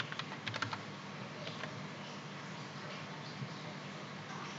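Fingers tap on a computer keyboard, beginning with a quick burst of clicks and then continuing as faint, scattered keystrokes over a low background hum.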